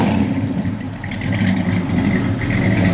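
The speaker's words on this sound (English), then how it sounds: "Gotta love the sound of that Hemi." The Hemi engine of a 1970 Plymouth Road Runner runs steadily nearby, a deep, loud, continuous rumble with a slight rise in revs partway through and no voices.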